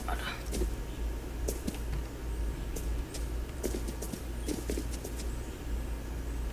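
Horse hooves clip-clop at an irregular walking pace in a video game, moderately close over a steady low rumble of game ambience, with a few sharper hoof strikes standing out.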